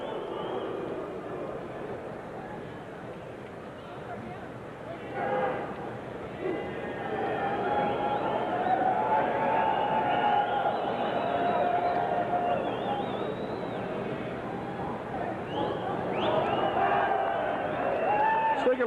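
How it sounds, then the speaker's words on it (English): A boxing crowd at the Julian Jackson vs Eduardo Ayala fight reacts as round 8 ends, a broad, sustained roar of an arena audience that swells midway and stays loud, with a commentator talking over it. "You hear the crowd reaction."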